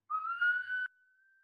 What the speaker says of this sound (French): la respiration en sifflant, ça ressemble à ça